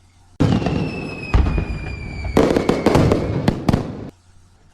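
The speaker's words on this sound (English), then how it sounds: "And we even have fireworks." Fireworks burst in a loud rapid crackling barrage with whistling streaks and sharp pops, lasting about four seconds before cutting off to near silence.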